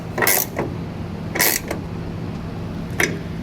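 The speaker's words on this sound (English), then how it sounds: "we're going to take a wrench and we're just going to tighten down all of our bolts" Wrench tightening bolts on an Erickson truck bed ladder rack, three short ratcheting creaks spaced about a second apart, close and fairly quiet, with no talking.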